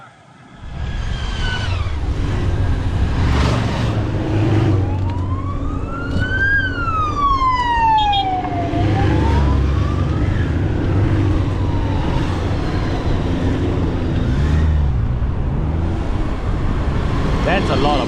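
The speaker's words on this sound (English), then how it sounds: "That's a lot of motor escort" Motorcade escort vehicles pass on a Malaysian road with wailing, sweeping sirens rising and falling over loud, continuous traffic and engine rumble.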